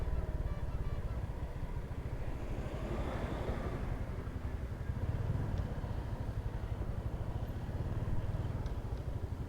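A Honda Wave RSX motorcycle engine runs steadily up close, a low rhythmic chug that holds throughout with a brief rise in revs partway through.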